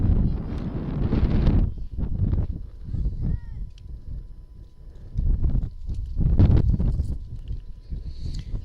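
Strong gusts buffet the microphone at an outdoor softball game, with heavy low rumbling surges that swell and fade in waves over the whole stretch.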